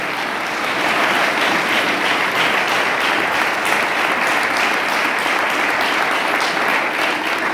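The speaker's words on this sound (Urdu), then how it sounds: "آئیں نجات دہندہ یسوع کے لیے زوردار تالیاں بجائیں۔" A congregation bursts into loud, sustained applause for Jesus during a Christmas sermon, a dense steady roar of many hands clapping close by for several seconds without pause.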